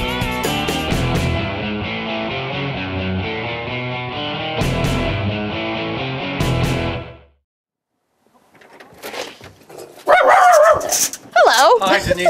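Indoors, a Jack Russell terrier barks in a few sharp bursts as people leave the house, followed by quieter stretches with people talking.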